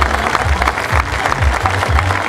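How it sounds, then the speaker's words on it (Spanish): Crowd applause at an outdoor civic celebration, brisk clapping mixed with crowd noise and a loud amplified voice over a PA, strongly modulated low sounds running underneath. "fuerte el aplauso, fuerte el aplauso."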